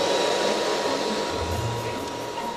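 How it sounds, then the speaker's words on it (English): A hair dryer blows steadily and loudly at close range over grain being dried during a breakfast cereal demonstration, a constant airy whir with a faint low rumble. "So we'll just pop the dryer on now."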